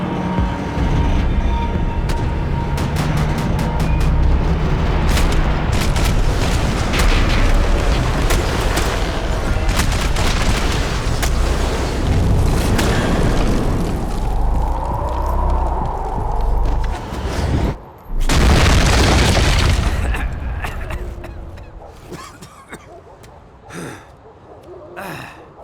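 Close, dense gunfire and heavy explosions in the Max Payne 3 video game, with rapid rattling bursts, booming blasts and debris. Brief pauses break the volleys, and gasping and grunting voices are heard among the shots.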